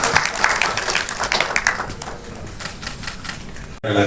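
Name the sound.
audience applause at film release ceremony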